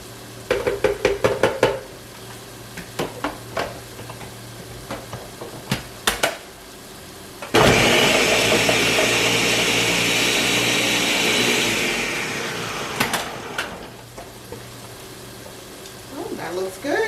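Kitchen blender pulsing to roughly chop carrots and ginger: one loud continuous whir of about five seconds, set between softer clatters and handling knocks before and after.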